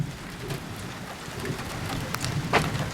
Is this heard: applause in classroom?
no